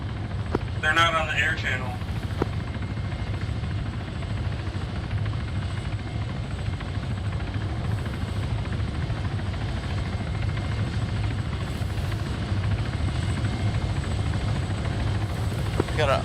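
A helicopter in the military game Arma drones steadily throughout with a low, constant rotor rumble, while a voice speaks briefly over radio near the start.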